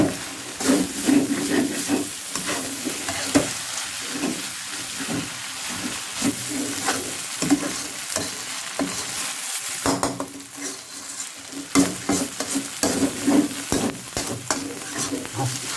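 Cabbage, glass noodles and pork stir-fried in a pan with egg: a steady, close sizzle and hiss with repeated scraping and clattering of a spatula against the pan throughout, no voices.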